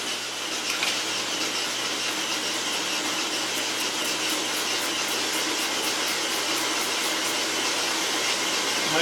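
A saw grinds steadily through a stone slab, producing a continuous, even, broadband roar and hiss with no talking.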